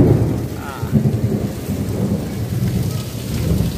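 Heavy, damaging rain pours in a thunderstorm, making a steady loud hiss and patter, while deep thunder rumbles roll underneath throughout.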